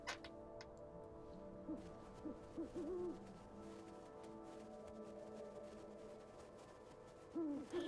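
An owl hoots several times in the video game Never Alone, soft distant calls over a steady low ambient hum with faint ticking, and no voices.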